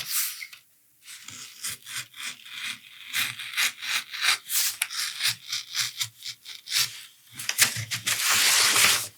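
A blade cuts through leather for a single-loop holster, producing a series of rough, rhythmic rasping strokes, some long and some short, close and fairly loud with brief pauses between them.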